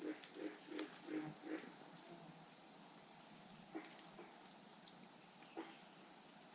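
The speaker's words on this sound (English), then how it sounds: "you can hear these frogs off in the distance here behind me in these swamps" Frogs call from far off in a swamp in the Green Swamp, a quick run of short croaks followed by a few scattered calls, faint and distant beneath a constant high insect drone.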